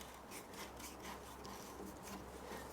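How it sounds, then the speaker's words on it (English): An awl scrapes out the rusted slot of a screw on an old church chair, a faint, close, rasping rub repeated in short strokes with no talk. "This screw is pretty rusted, so I'm just going to use an awl to clean up the slot."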